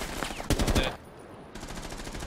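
Automatic gunfire rattles in the tactical shooter Rainbow Six Siege, one loud burst of rapid shots followed by a brief lull and then more sustained firing.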